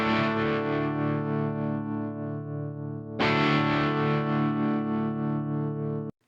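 Distorted electric guitar through a St. Rock React loadbox with an Ampeg cabinet Vintage 30 impulse response, heard alone as sustained ringing chords, then a fresh louder strum near the middle that rings out until it cuts off.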